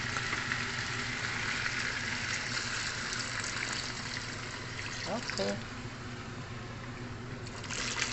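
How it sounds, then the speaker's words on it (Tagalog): Water poured into a cooking pot while making chicken tinola, a steady splashing trickle running throughout at moderate level, with a brief spoken word partway through. "Lagyan natin ng tubig."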